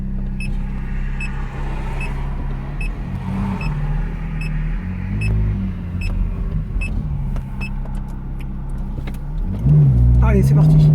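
A Ferrari F430 idles and drives off on the Le Vigeant track, its engine a steady loud drone that swells in a rising rev near the end. Voices talk over the engine.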